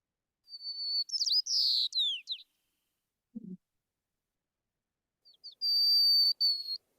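An isolated white-crowned sparrow sings alone: two bursts of thin whistled, buzzy song notes separated by a pause, with a brief low thump between them.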